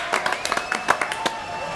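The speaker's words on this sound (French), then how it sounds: "Applaudissements, s'il vous plaît." Studio audience applause on a French TV show, a burst of brisk, close clapping with sharp individual claps that thins out toward the end.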